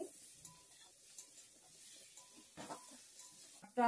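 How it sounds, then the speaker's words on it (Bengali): Sweet flour granules frying in a pan are stirred, giving faint scraping and light sizzle at low level, with a louder clatter right at the end. "মিষ্টি গুঁড়া ভাজা করছি,"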